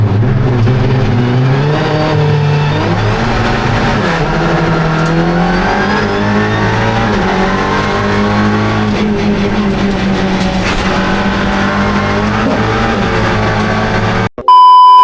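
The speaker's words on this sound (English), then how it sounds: "The red lights are on, out they go, we're away and racing on the Silverstone National Circuit." TCR UK touring cars roar away from a standing race start on the Silverstone National Circuit, a dense, loud blend of revving engines climbing through the gears, sustained throughout before cutting off abruptly near the end.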